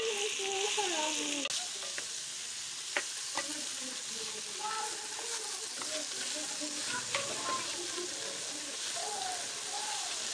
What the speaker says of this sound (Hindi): भिंडी को अच्छी तरह से फ्राई करेंगे।